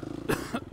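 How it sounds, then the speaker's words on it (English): A single short cough clearing the throat, a sharp burst followed by two quieter rasping catches, close and fairly soft, with no talking. "And that was the cough that cleared my throat."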